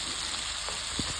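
Onions frying in hot oil with cinnamon, cloves, cumin and cardamom for palak chicken, a soft steady sizzle with a few light stirring scrapes near the end, no voices.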